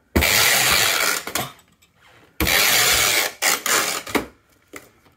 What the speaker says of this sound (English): the proper way to tape these up so that it tapes easy and secure and tight is to go over